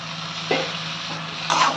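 Pointed gourd and potatoes sizzle steadily in hot oil and spices in a pan, with a couple of brief stirring scrapes over the constant frying hiss.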